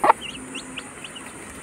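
A mother hen and her newly hatched chicks: one sharp cluck opens, followed by several thin, faint peeping chirps spaced over a quiet background.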